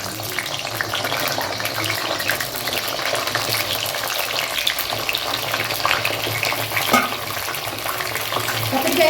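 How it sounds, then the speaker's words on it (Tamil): Eggplant pieces frying in hot groundnut oil for a spicy eggplant curry, giving a steady, dense sizzle with some bubbling and occasional stirring scrapes, continuous and fairly loud throughout with no talking. "கத்திரிக்காய் போட்டு இந்த மாதிரி நல்லா வறுத்து ஆயிலில் வறுத்து எடுத்துக்கோங்க."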